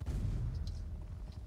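A cannon blast rolls in as a low, muffled rumble from the Napoleonic Linebattle video game, heard at a distance and fading slowly over a second and a half with no talk.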